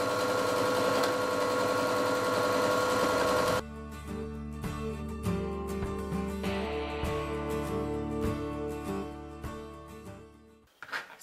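Sewing machine stitching a felt headband with pinned seams, a loud continuous motor whir with rapid needle rhythm that shifts pitch midway, then stops near the end.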